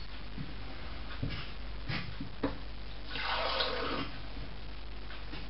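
Water being poured from a mug into a bowl of pancake mixture, a steady splashing pour that swells in the middle of the clip over low background noise, with no one speaking.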